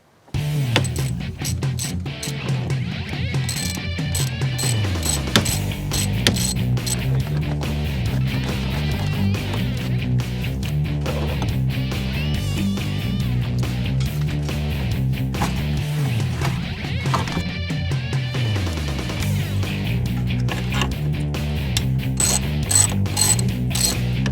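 Ratchet work pulling the intercooler pipes off the top of a 7.3 Powerstroke diesel engine: continuous dense mechanical clicking and metallic rattling, close and steady for the whole stretch with no talking.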